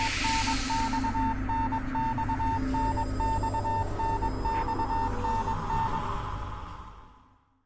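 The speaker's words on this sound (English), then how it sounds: "The beeping suddenly stops." Steady electronic beeping from the horror game Death Mark, a regular pulsing tone repeating evenly over a low droning background, running alone for several seconds before fading out at the end.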